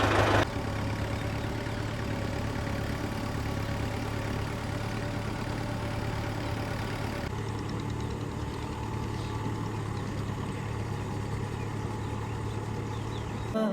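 A tractor engine runs steadily in a rice field, a continuous low drone that holds close and even throughout, with a slight shift partway through.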